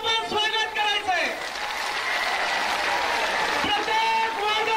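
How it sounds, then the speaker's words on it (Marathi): Crowd applause rolls through a large outdoor Dasara rally welcoming Manoj Jarange, a broad continuous clapping wash under a loud voice on a public address system. "माननीय मनोजदादा जरांगे पाटलांचं प्रचंड टाळ्या वाजून आपण स्वागत करायचंय"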